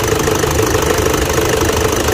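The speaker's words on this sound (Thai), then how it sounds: "เครื่องยนต์เริ่มนิ่งแล้วครับ" A Toyota D4D diesel engine with heavy oil consumption, sluggish running and white smoke idles steadily and loudly up close, with a continuous rumbling knock and no voices.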